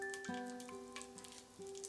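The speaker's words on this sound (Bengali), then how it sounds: "ওই তেলেই ফোড়ন দিয়ে দিচ্ছি 2টো তেজপাতা আর 1 টিস্পুন গোটা জিরে" Bay leaves and whole cumin seeds sizzle in hot oil left from frying potatoes for a Bengali tomato rice, a steady crackling hiss with faint popping and a few sharp clinks of utensils, close and alone.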